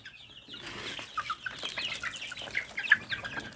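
Fayoumi chickens cluck and squawk in a poultry pen, a busy cluster of short calls and rustling that builds after the first half-second and stays moderately loud throughout.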